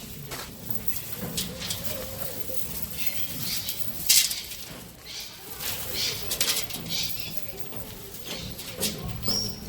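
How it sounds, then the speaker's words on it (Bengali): Many birds in an open walk-in aviary on the road between Ravangla and Pelling in Sikkim: busy chirps, coos and scattered wing flaps at moderate distance, with a few sharp louder calls and a low background murmur. "প্রচুর পাখি খোলা অবস্থায় রয়েছে"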